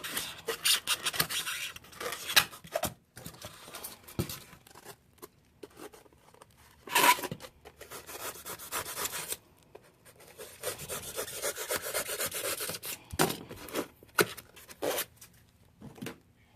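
A tool cuts a V groove into dollhouse rock, making repeated rough rasping, scraping strokes in bursts with short pauses between them, close and fairly loud, with no talking.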